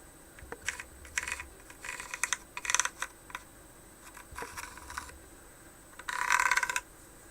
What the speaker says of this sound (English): all I'm going to do is draw around it